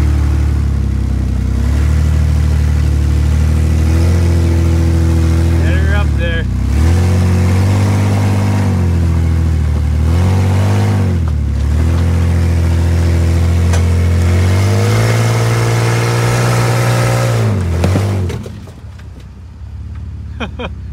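Warmed-up Ford Explorer engine revving hard in repeated bursts, each pull rising and falling over a loud, rough idle, near and continuous until it quietens at the end.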